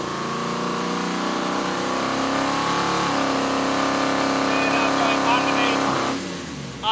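A Hakosuka Skyline fitted with a VK56 V8 holds a loud, steady roar on a dyno as revs climb, then the engine note drops away near the end, with someone talking over it.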